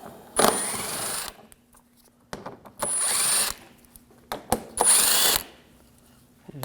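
A power tool with an 8mm socket whirs in three short, loud bursts as it removes screws from the front bumper of a 2007-2013 BMW 328i, with faint clicks and handling noises between bursts.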